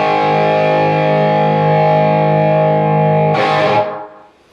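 Distorted electric guitar solo, a loud, sustained held bend ringing alone before a brief noisy scrape near the end cuts it off.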